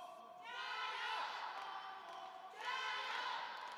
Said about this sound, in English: You can hear the crowd here, a lot of Chinese supporters and fans in the crowd.